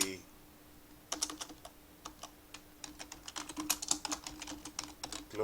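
Rapid, irregular clatter of keys on a computer keyboard, typed in quick bursts with brief pauses, close and fairly quiet over a faint steady hum.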